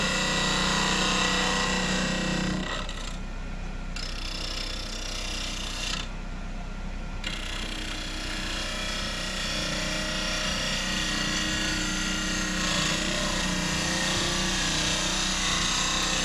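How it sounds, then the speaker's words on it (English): A tenon is cut into a wooden piece so it can mount in a chuck's jaws, with a steady, loud mechanical drone and grinding wood noise running throughout. "What he's doing right now is creating a tenon to mount it into the jaw."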